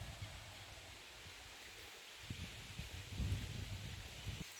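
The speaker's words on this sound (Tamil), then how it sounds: "காற்று நல்லா காற்றடிக்குது பாருங்கள்" Steady outdoor wind rushing and buffeting the microphone, with low rumbling gusts that swell louder toward the end.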